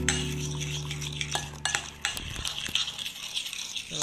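Chicken teriyaki sauce with chopped garlic and ginger is stirred in a bowl, a spoon clinking and scraping against it in quick, uneven strokes after a low steady hum.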